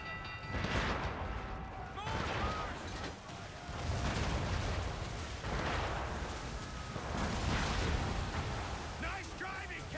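Mortar fire in a video game, with repeated heavy booms and crashing impacts every second or two, under voices talking.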